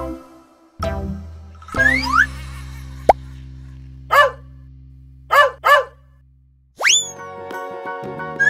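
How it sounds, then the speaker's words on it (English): Several separate dog barks, loud and close, spaced out with pauses between them and mixed with playful toy sound effects such as boings and plops. "This is dog."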